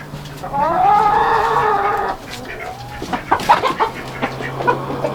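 An outdoor chicken lets out a drawn-out, squawking call, then a series of short, choppy clucks that come and go, near and clear.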